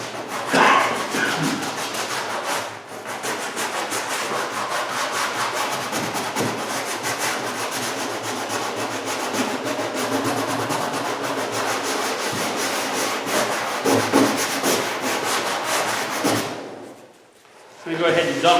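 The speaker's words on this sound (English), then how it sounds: "Don't use your wife's best scrub brush thing." Scrub brush rubbing residue off a surface in continuous back-and-forth strokes, close and fairly loud, with a few brief pauses and a quieter gap near the end.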